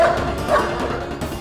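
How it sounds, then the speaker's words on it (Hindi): A husky dog lets out a string of short yips and barks, close and fairly loud over a busy indoor background, with a whimpering edge between the barks. "भौंक इसलिए रहा है क्योंकि ये भेड़िया नहीं कुत्ता है"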